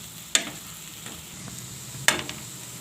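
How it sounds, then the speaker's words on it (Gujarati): Chutney with red chilli and coriander fries in oil for a spring onion lotiyu dish, a low sizzle punctuated by two sharp spoon clacks against the pan and a few lighter stirs, with no talking. "ઘડીક વાર તેલમાં આપણે ચટણીને સડવા દેવાની છે"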